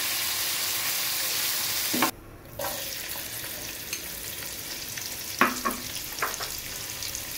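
Onions browning in a pan for chicken chap give a steady sizzling fry, with a few scraping stirs and clinks later on and a brief dip in the noise near the start.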